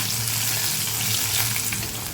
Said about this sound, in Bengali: আমি এখন মাছ ভাজা বসিয়ে